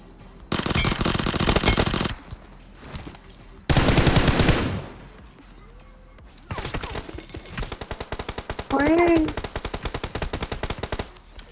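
Automatic gunfire in the PUBG Mobile video game, loud rapid bursts with several pauses between them, and voices talking briefly in the gaps.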